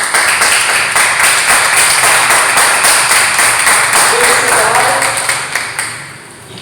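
A church congregation applauds for Jesus with dense, loud clapping from many hands that fills the room. The applause holds steady, then thins and fades over the last second or two.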